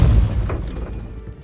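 A Depulso force spell cast in Hogwarts Legacy: one heavy, short thumping burst with a brief shattering edge that quickly fades into low rumble.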